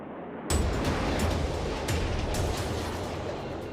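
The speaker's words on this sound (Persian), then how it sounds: "اولمستد به سرعت موشک رو شلیک میکنه" An F-4 Phantom fires a missile at a MiG: a sudden loud whooshing ignition bursts in after a quiet start, then a sustained rushing roar that slowly fades, with no talk.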